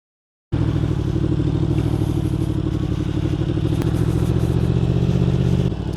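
A BMW supermoto motorcycle riding nearby, a loud, steady engine drone that starts abruptly and holds constant for several seconds without voices.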